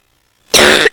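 A single harsh cough bursts out loud and close after a moment of silence, lasting under half a second.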